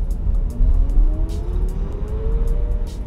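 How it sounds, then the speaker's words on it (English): A car accelerates hard on an open road, a thin whine climbing steadily in pitch over a loud, close rumble of tire and road noise, with no talking. "Open road, let's give it a little punch."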